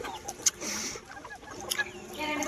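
Native country chickens on a farm cluck and squawk softly in the background, with scattered short calls and faint rustling.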